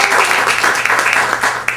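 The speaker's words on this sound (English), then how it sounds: "Give me a round of applause." Comedy club audience applauding at a stand-up show, a steady wash of many hands clapping at close range, continuous and fairly loud, with scattered cheers and no speech over it.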